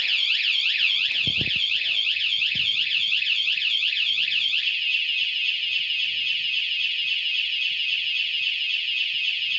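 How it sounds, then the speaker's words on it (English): A loud, piercing electronic alarm on a Lectric electric bike wails in rapid rising-and-falling sweeps, then settles into a steady shrill tone, continuous and close. "I do like the way the alarm works on it, because it's just pretty much like a car alarm"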